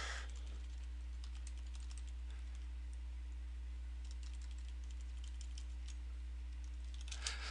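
Computer keyboard keys are pressed while working in 3D software, giving soft clicks in scattered bursts over a steady electrical hum, with a longer run of rapid taps near the end.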